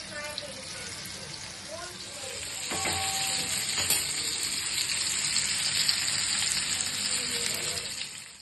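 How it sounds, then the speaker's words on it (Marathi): Fish pieces laid one by one onto oil on a hot tawa for Malvani-style fish curry, a steady close sizzle that swells louder as the fish goes in, with faint talk in the background. "तेल घालून घेतले तव्यावर आणि आपण आता याच्यावर एक एक मासा ठेवूया."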